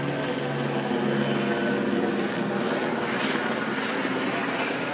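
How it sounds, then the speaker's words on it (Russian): Police helicopters circle low over a hiking trail near Griffith Observatory, their engine and rotor drone loud and steady throughout with no break. "вот эти полицейские вертолеты, они начали надо мной летать, кружить"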